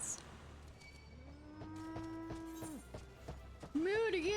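A cow in the video game Final Fantasy 14 gives a drawn-out moo mid-clip over quiet game ambience and footsteps, followed by a brighter chirpy call.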